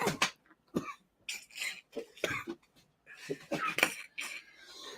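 Harsh coughing fit after a hit during a smoking session, several raspy bursts and throat-clearing in irregular clusters, close to the listener, with clinks of glass or dishes between coughs.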